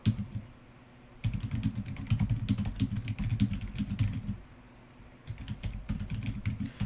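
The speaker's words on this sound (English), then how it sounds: "So, after that, I'm going to type in some extra code." Programming code is typed on a computer keyboard in quick bursts of close, clicky keystrokes. Two pauses break the typing, and a low steady hum continues underneath throughout.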